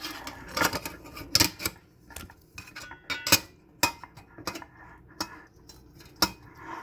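Sharp metallic clicks and clanks, about a dozen irregular knocks as the lid is fitted and locked onto an Instant Pot Vortex air fryer's metal rotisserie basket, close up, no talking.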